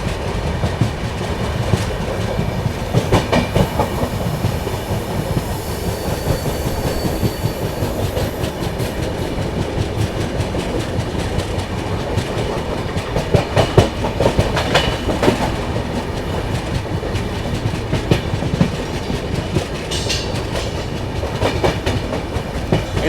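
The Sampark Kranti Express runs on rails in Bihar with continuous loud rumbling and rhythmic clickety-clack of wheels over joints, heard from aboard the moving train for the whole stretch.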